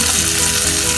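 Tempering poured over kalan, a thick yogurt-based Kerala sadhya curry, sizzles in a steady, loud, close hiss that fills the whole second without pause.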